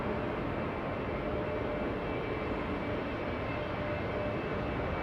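Steady, broadband jet roar of a Delta airliner departing Los Angeles International Airport bound for Boston, heard at a distance as a continuous rumble with no break and no voices.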